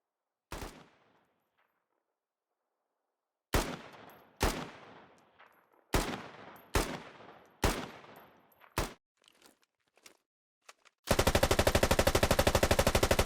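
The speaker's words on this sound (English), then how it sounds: "The second kit has an RPK-74 with a 45 round mag." An RPK-74 light machine gun with a 45-round magazine fires in Squad with the Ukrainian forces faction: a single loud shot, then several sharp bursts with echoing tails, ending in a sustained rapid stream of automatic fire.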